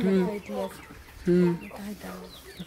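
Village hens cluck and squawk nearby in short repeated bursts, a few calls overlapping.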